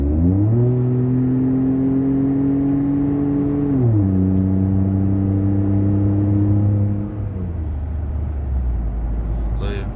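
A 2014 Ford F-150 3.5 EcoBoost pickup engine drones loudly and steadily as it climbs a steep hill, its pitch holding then dropping as the gears shift, heard from inside the cab.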